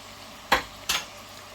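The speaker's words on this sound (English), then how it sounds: "And then mix everything together." Two quick scraping stirs of a spoon through chicken curry with spices and tinned tomatoes in a pot, each a short bright swish, close and alone with no talking.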